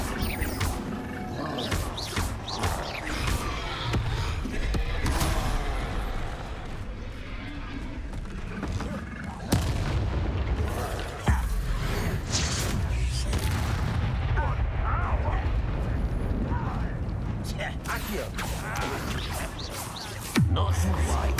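Bombarda explosion spell cast in Hogwarts Legacy, with booming blasts and crashes over busy game combat noise and a voice talking throughout.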